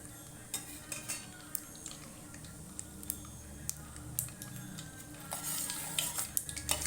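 Mustard seeds crackle in hot oil for an upma breakfast as a quiet, steady frying hiss dotted with small pops and a few utensil clinks, growing denser near the end.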